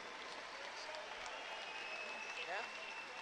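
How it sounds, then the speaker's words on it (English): Gymnasium crowd at a 2012 OSAA 2A/1A state wrestling final round applauding Oregon Wrestling Hall of Fame members; a steady, fairly distant patter of clapping with squeaky shoe sounds and voices mixed in. "a nice round of applause for your Oregon Wrestling Hall of Fame members"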